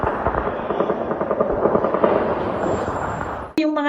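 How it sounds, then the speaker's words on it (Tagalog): Rapid bursts of gunfire crackle in dense, continuous volleys, loud and close, ending with a sharp cutoff and a brief tone. "Sa isang punto ng pagvivido ni Glenda, tila mga pagputok ng mga baril na ang naririnig."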